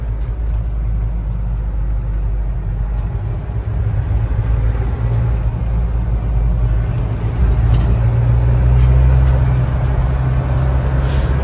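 A modified Mahindra Thar SUV engine drones steadily and loudly close by, with low rumble and road noise building slightly as it speeds along.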